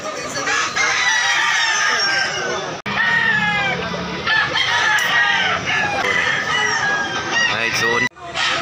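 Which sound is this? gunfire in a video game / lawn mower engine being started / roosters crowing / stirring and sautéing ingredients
roosters crowing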